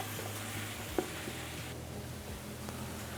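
Tomatoes being stirred in a pan while cooking a Greek dish, with a steady low sizzle, a soft scrape of the spoon and one brief clack near the middle.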